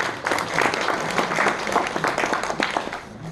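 An audience claps together at the founding ceremony of an association held in a memorial hall assembly room, a full, even burst of applause lasting a few seconds.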